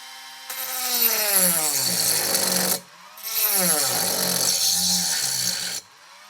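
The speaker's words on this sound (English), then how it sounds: "So I'm going to go ahead and just cut the bottom of the can off." Dremel rotary tool on a flexible shaft, powered by a Milwaukee M12, cutting through a metal sunscreen can in two long bursts, its whine rising and dipping with load between a short pause.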